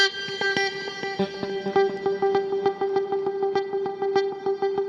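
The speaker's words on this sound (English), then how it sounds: "I have my delay set on dotted quarter notes or dotted eighths" Clean electric guitar notes with a delay set to dotted quarter or dotted eighth notes, each echo landing between the played notes in a steady dotted rhythm.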